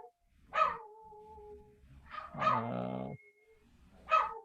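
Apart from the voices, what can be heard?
dogs barking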